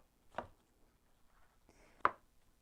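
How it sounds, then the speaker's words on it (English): A knife cuts King Stropharia mushrooms into small one-inch cubes, giving two crisp, quiet chops on a board a second and a half apart, with near silence around them. "I'm cutting them into little 1-inch cubed pieces"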